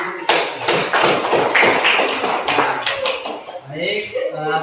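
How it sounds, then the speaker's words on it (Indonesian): An elementary school class bursts into rhythmic clapping, many hands applauding together in a short lively burst, with a teacher's voice and children's talk over the end. "Berikan tepuk tangan untuk kita."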